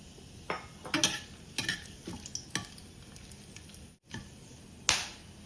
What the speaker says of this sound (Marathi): तेल गरम झालेलं आहे त्याच्यात मी जिरा टाकते